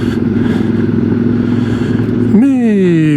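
A QJ Motor SRT 600 SX midsize adventure-touring motorcycle runs at a steady engine drone, then revs sharply near the end with a rising and falling pitch, heard up close.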